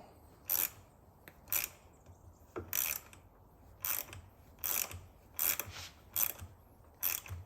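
A nut rivet is tightened with a flat bar as a spacer to fit a saw port, producing about ten sharp metallic ratcheting clicks in uneven bursts, close and fairly quiet against a near-silent background.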